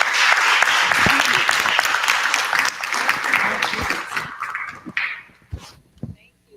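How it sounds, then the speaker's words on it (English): A live audience at a community gathering claps in a broad, dense round of applause that fills the first five seconds, then thins into scattered claps and fades out. "Ladies and gentlemen, give these ladies a round of applause."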